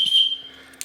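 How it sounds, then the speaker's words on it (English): A plastic Alpha Innovations safety whistle gives one short, shrill, steady blast up close, which fades out, followed by a brief click at the end. "next item here is a whistle. This one is from Alpha Innovations"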